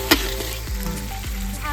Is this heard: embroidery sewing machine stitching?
no